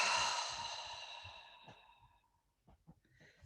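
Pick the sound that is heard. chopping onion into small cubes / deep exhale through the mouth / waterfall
deep exhale through the mouth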